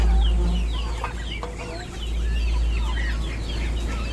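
Brahma chickens clucking in a flock on a farm where ducks are also kept, with repeated short clucks and calls overlapping at close range over a low steady hum.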